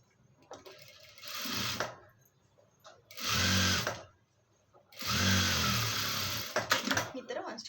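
A sewing machine runs in two loud bursts through a folded double layer of lining fabric, with a voice talking in the pauses between runs.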